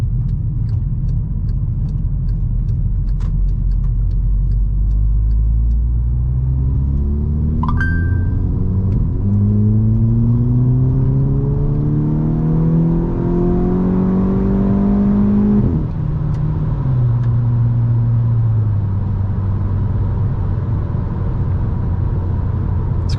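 A VW Scirocco engine rumbles at idle, then revs up in a long rising whine before dropping back, with a sharp exhaust pop partway through; no voices.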